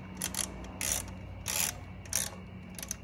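A ratchet wrench clicks in short bursts, about five quick ratcheting runs separated by pauses, loosening the brake rotor bolts on a Talaria StingR electric bike, close and clear.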